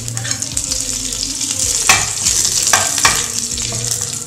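Mustard seeds and urad dal crackle and sizzle in hot oil for a tempering, a steady close frying hiss punctuated by sharp popping bursts and light stirring.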